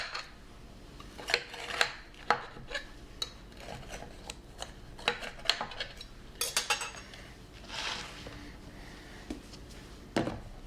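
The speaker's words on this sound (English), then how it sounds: "Now that the cake is completely cool, we're going to release it from the pan." A cooled Battenberg cake is worked free of its baking pan, with scattered scraping, tapping and light metallic clinks against the tin, close and fairly quiet, alone without talk.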